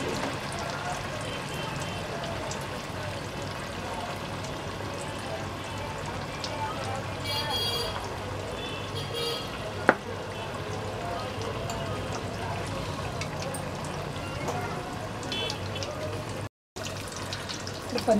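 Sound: frying coated paneer in oil

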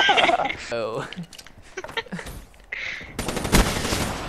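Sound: gunfire in the video game Black Ops 3

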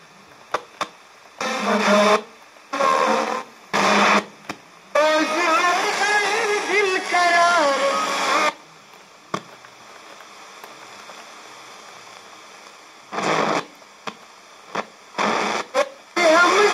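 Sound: Geepas GR-8635 radio playing on the FM band

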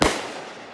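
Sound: fireworks going off in a backyard

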